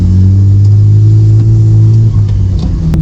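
Loud, steady engine drone of a BMW E36 heard from inside the car while driving, with a deep, sustained hum that holds at a constant level and no talking.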